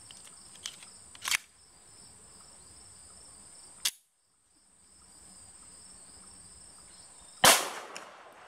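Three sharp pistol reports from test-firing 7.62x25 handloads, jacketed then cast bullets, crack out several seconds apart outdoors, the last loudest, against a steady background of chirping insects.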